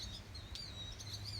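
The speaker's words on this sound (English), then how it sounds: "I think that's a sparrow up there on the fire line." A sparrow perched up on an electric fence line out in a pasture chirps in short repeated calls, moderately near but fairly faint over steady low outdoor rumble.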